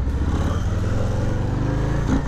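A 2020 Harley-Davidson Low Rider S idling close by, a deep, loud, throbbing exhaust rumble with a slight rise in pitch near the end.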